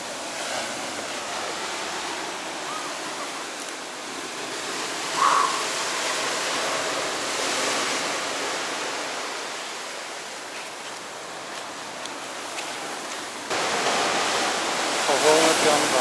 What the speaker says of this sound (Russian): Волны прям, да.